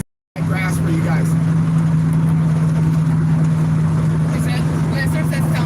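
A straight-piped 1969 Dodge Dart GTS with true dual exhaust and no mufflers rumbles loudly and steadily while driving through agave fields in Jalisco, Mexico, with a deep constant drone and voices over it.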